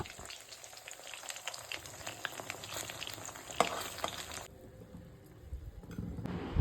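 Loita (Bombay duck) fish chops coated in a light batter sizzle steadily in hot oil, a close, continuous frying crackle with scattered pops and a quieter stretch near the end.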